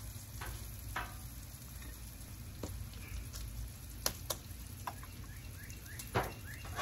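Pancake batter on an oiled Blackstone flat-top griddle at about 350 degrees makes a soft, continuous sizzle with a low hum beneath and a few faint clicks and taps from utensils.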